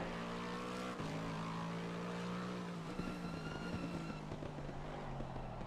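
An Audi race car engine in a racing video game, heard from outside as it passes, holds a steady buzzing drone, then shifts and revs down as it moves off, fairly faint under broad background noise.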